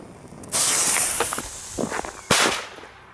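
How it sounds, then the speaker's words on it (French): Bison Zero firecrackers going off outdoors, two sharp loud bangs with fizzing crackle between them, the second burst near the end, no talking. "c'est des pétards reçus dans le colis du concours de Pyropassion"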